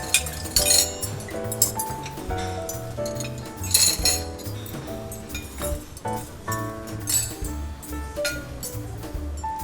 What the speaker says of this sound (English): Show me how you hold your fork and your knife.